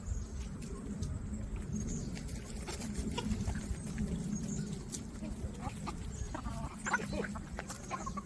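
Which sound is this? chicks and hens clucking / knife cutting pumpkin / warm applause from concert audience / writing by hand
chicks and hens clucking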